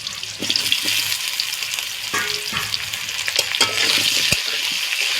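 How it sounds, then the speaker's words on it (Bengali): Potatoes cut into long pieces and brinjal frying in a pan give a steady, close hiss with scattered stirring scrapes and a few sharper clinks, no talking. "আলুগুলো একটু ভেজে দেবো সঙ্গে বেগুনগুলো"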